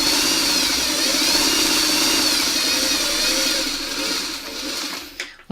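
Sewing machine stitching chevron quilt pieces, a close, steady high-speed mechanical whir that runs continuously before slowing and stopping near the end, no speech.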